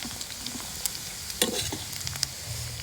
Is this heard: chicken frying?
yes